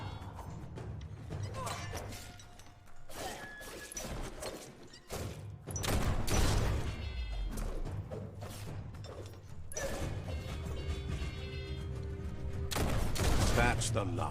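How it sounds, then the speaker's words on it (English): Cannon fire in the Biomutant video game: several heavy booms and impacts spread across a busy battle soundscape, with mechanical clatter and spoken voices over the action. "The hell's that cannon?"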